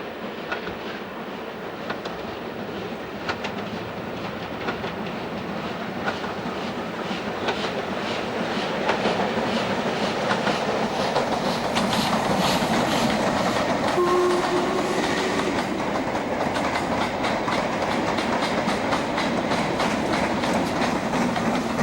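A steam locomotive named Leander hauls a freight train past at a heritage railway steam event in Bury, a steady, loud rumble and rolling clatter of wagons filling the whole stretch without letup, with a brief horn-like tone partway through.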